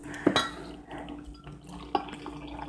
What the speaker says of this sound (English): Then we use hot water.